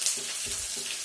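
Shredded cabbage fries in a hot pan for chow mein with a steady, close sizzle and soft stirring, and no voices over it.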